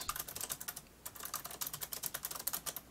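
Rapid typing on a computer keyboard, a quick, uneven run of sharp clicks with a short pause near the one-second mark, fairly faint and close with no voices over it.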